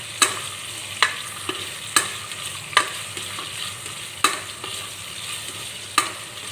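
Onions fry in a pan for a restaurant-style mutton curry, a constant sizzle broken by regular sharp clinks of a spoon stirring against the pan, roughly once a second. No speech.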